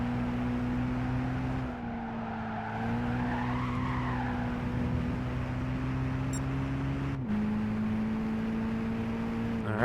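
A powerful racing car at Tsukuba in Gran Turismo 5's Clubman Cup, its engine holding a steady droning pitch that shifts slightly with gear changes, joined by a brief wavering tire squeal.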